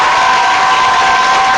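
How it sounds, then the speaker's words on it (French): Church congregation at a Sunday worship service cheering and acclaiming together, a loud, dense, sustained wash of crowd noise with no pauses. "donnez-moi les tonnerres d'acclamation,"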